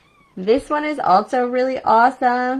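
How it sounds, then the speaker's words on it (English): A pet cat meows several times in a row, close and fairly loud, its drawn-out calls overlapping with someone talking indoors. "My cat's just telling me to be quiet."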